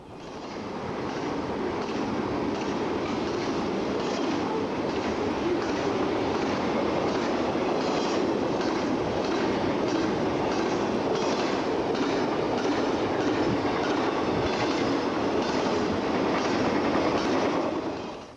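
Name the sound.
Norfolk Southern freight train passing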